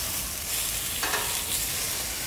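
Thick-cut bacon on a charcoal-heated Yoder flat top griddle, a steady, dense, close sizzle with a brief flare of louder crackling midway, no talk.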